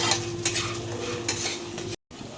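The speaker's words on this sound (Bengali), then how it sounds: "এটা কিন্তু কন্টিনিউ নেড়ে যেতে হবে, নাহলে ডাল পুড়ে যাবে" Lentils and rice being stirred and fried in a pan, a steady close scraping and sizzling with a few sharp utensil strokes and a brief dropout near the end, no talking.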